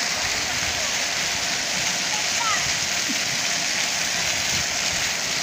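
A new city fountain in Novosibirsk sprays and splashes water in a loud, unbroken hiss heard close by.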